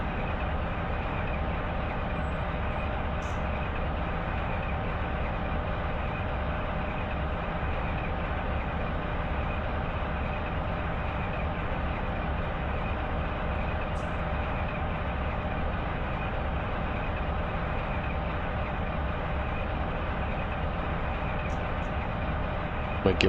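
An intermodal freight train runs on the CSX A-Line mainline in Run 8 Train Simulator, a steady, continuous rolling rumble with engine drone that holds unbroken and fairly loud throughout, with no one speaking.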